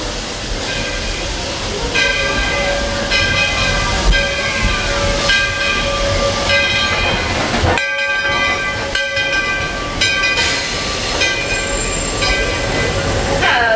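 A Walt Disney World Railroad steam train rolls steadily along, with a constant rumble, clanking wagons and sustained high wheel squeal and ringing tones running throughout at close range.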